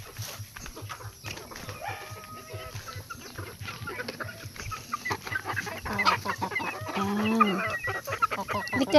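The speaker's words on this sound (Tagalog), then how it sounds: "Kuha tayo ng manok." Chickens cluck repeatedly around a farmyard at close range, with scattered calls building in loudness over steady background noise.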